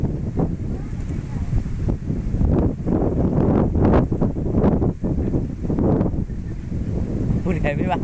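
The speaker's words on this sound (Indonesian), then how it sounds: "Anginnya kenceng banget ya Allah" Strong wind buffeting the microphone in loud, gusting rumbles that swell and ease throughout, with people talking underneath.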